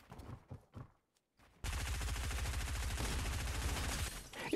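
Gunfire in the video game Fortnite: a few scattered shots, then a sustained rapid burst of automatic fire, loud and close, lasting several seconds.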